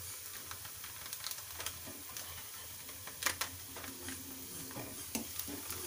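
A pav bhaji mixture with masala is stirred in a pan, soft sizzling under irregular spatula scrapes and light taps against the metal, fairly quiet and close.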